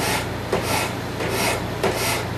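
Rasp shaping the wooden handle of a handmade knife, heard as broad, harsh scraping strokes in a steady back-and-forth rhythm, close and fairly loud with no talking.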